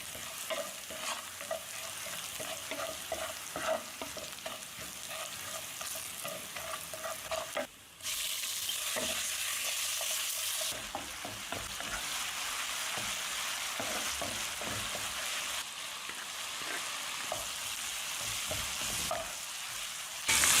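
Pork filling stir-fried in a pan with shallots and plenty of black pepper sizzles steadily, with repeated scraping strokes of a spatula and a louder surge of hissing midway.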